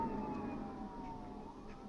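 Police siren in the video game The Last of Us wails faintly and steadily in the distance over a low background hum, heard alone.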